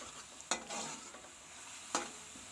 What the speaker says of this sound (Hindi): ज़ीरे को भी थोड़ा सा ब्राउन होने देंगे